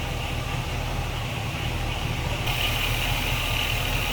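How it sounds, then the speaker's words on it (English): A Chevy V8 in a 1935 Chevrolet Master Deluxe street rod idles steadily with a low, smooth rumble, heard up close with the hood open and no talk. "See how smooth that Chevy runs underneath there."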